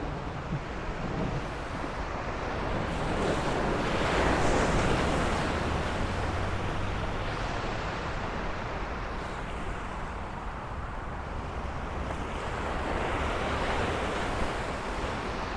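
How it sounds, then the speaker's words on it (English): Ocean surf and wind along the South Brooklyn waterfront near Shore Parkway in New York City, a steady loud roar of breaking waves with gusting wind buffeting the microphone throughout, rising as a bigger wave rolls in. "You can see that angry ocean"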